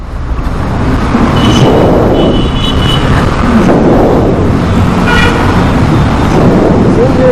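A TVS Apache RTR 160 4V motorcycle on a test ride, heard as a steady loud roar of engine and rushing wind buffeting close by, with road traffic blended in throughout.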